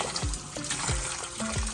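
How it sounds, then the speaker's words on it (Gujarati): Potatoes are rinsed in water in a bowl, giving soft splashing and trickling with a few small sloshes, quiet and close with no talking. "એને ચોખ્ખા પાણીએ ધોઈ દઈશું"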